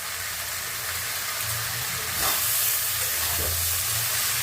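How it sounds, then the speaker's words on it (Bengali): Onions sizzle steadily in a pan with a broad, constant hiss, and a brief louder burst of frying marks chopped tomato being added, close by with no voices. "অনেকটাই ভাজা হয়েছে, এই সময় আমি একটু দেব টমেটো"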